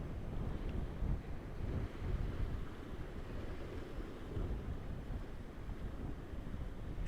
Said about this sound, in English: That wind is swirling round